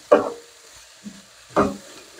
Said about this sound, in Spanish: Que se cocine la cebolla junto con los mushrooms.